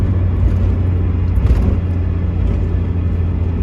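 A 1989 Mazda MX5 roadster driving along a twisty road, its engine a loud, steady low rumble from inside the cabin with road noise beneath and a slight swell midway, no voices.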